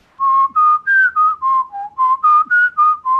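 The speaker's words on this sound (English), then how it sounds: "what you're listening for are those whistly kind of sounds" Whistly overtone harmonics rise out of ensemble singing as a string of clear, pure tones, each held briefly, stepping up and down in pitch in a steady rhythm. The tones sound loud and close, with no talking.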